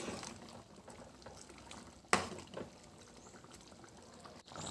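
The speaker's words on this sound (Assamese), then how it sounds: "এয়া ইমান ধুনীয়াকৈ উতলি আছে।" Tribal-style pork curry with bamboo shoot bubbling away in a pot, a steady close simmering hiss broken by one sharp clink partway through.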